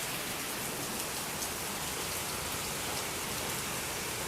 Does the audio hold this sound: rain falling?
yes